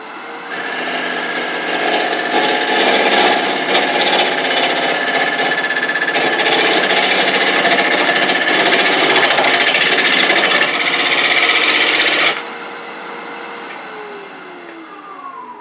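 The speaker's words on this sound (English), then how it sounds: "somehow this gouge feels like it's been dragging, like a chainsaw that hit the dirt" A woodturning gouge cuts cherry burl on a spinning lathe, giving a loud, close, rough chattering scrape that runs steadily for about twelve seconds, then stops abruptly as the lathe winds down.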